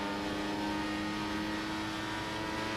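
A race car engine is held at full revs while overtaking, a steady high-pitched whining drone that stays constant and fairly faint throughout, heard with no talk.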